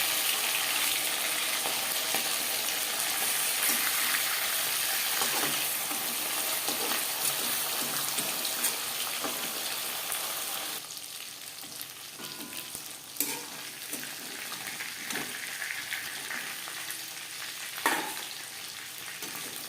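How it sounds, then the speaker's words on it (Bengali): Pieces of boal fish (wallago catfish) sizzle steadily in hot oil in a home kitchen, a dense continuous hiss that grows quieter about halfway through, with occasional spatters and utensil clinks; no talking. "বোয়াল মাছ ফাটে, সাবধানে ভাজতে হবে।"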